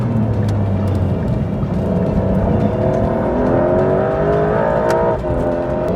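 A Porsche 911 GTS T-Hybrid accelerating hard, heard from inside: a steady engine and road roar with rising tones that climb through the gears, loud and continuous, with no talk.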